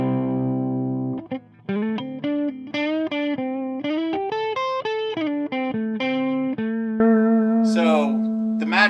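A distorted electric guitar plays a run of single notes and bends through a Reinhardt Sentinel tube amp head and 2x12 cabinet, warm and saturated, ringing close and loud with sustain.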